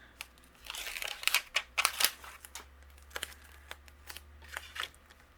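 Scissors cut out stamped paper pieces for a card, giving a series of crisp snips and papery rustles in uneven bursts, close and fairly quiet.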